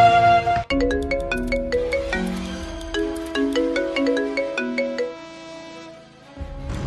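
A phone ringtone plays while a call to the police is placed, a bright electronic melody of chiming notes repeating in a steady pattern, close and clear, then breaking off.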